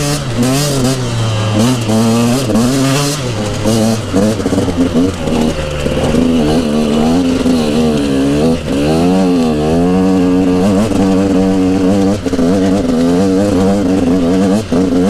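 A 2000s enduro motorcycle engine revs repeatedly, its pitch rising and falling in loud, close bursts that continue throughout.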